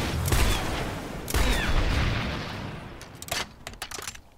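Weapon fire and explosions from the video game Planetside 2, with dense bursts of shots and booms in two heavy waves, then sparser sharp cracks trailing off near the end, no talking.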